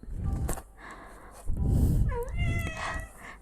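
A cat meows several times over about three seconds, the calls close and fairly loud, with rising and falling tonal cries and no one talking.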